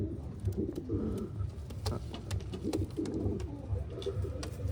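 Pigeons cooing close by in a loft, low throaty coos repeating in a steady rhythm, with a few small clicks and taps between them.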